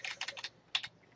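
Keystrokes on a computer keyboard while entering a hostname during a Linux install, a quick burst of close clicks, a pause, then a second short cluster.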